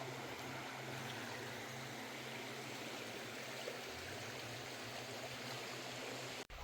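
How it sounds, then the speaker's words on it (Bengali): Steady broadband rush of the Sitong river flowing at a picnic spot in Alipurduar, a continuous even wash of water with a low hum beneath, heard alone without voices. "খুবই সুন্দর নদীটা"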